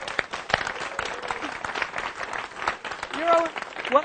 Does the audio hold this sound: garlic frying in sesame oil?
no